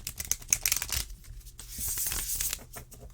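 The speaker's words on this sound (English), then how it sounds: "I'm going to do a couple more shuffles." Quick riffling and flapping of an oracle card deck being shuffled, a burst of crisp snaps followed by a longer soft slide, close up.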